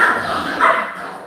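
Dogs at a home bark and yip in a short, fairly loud burst over steady background noise, with the barking swelling briefly partway through.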